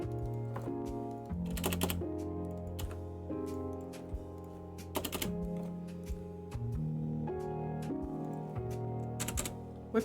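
Keys clack on a Corsair RGB computer keyboard in scattered bursts of quick taps with short pauses, close and fairly quiet, over a steady tonal background that sounds like music.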